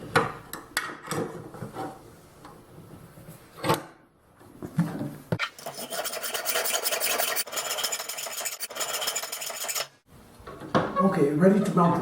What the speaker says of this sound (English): hacksaw off this extension that mounts the brake on the caster fork